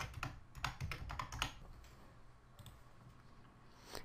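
Computer keyboard keys click in a quick burst of typing, then a pause and a few more scattered taps, close and fairly quiet, with no talk.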